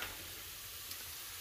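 Onions frying in a pan in a home kitchen, a steady soft sizzle running throughout at low level, with no talking.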